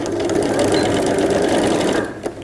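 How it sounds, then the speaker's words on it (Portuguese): Sewing machine running steadily as it stitches fabric for a pink patchwork backpack, a loud continuous mechanical whir up close that eases off near the end. "Vou para a máquina e faço a costura bem em cima da minha linha marcada."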